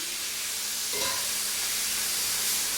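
Vegetables and meat sauteing in a pan with olive oil for carne guisada, a loud steady sizzle and hiss close up with a brief stirring scrape partway through.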